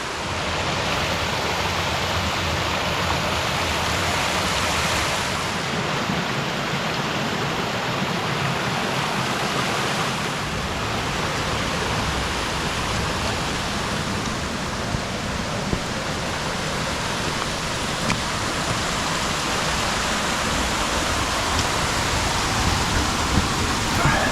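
The waterfall at Upper Pucks Glen gives a steady, dense roar of rushing water close by, unbroken and broadband for the whole stretch, with no voices over it.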